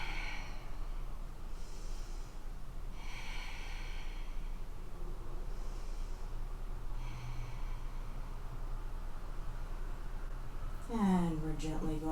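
Slow, deep breaths taken in about three rounds while holding a yoga pose in a core power flow, each soft airy inhale and exhale rising and fading at a steady unhurried pace, close and quiet, ending with a brief sharper sniff.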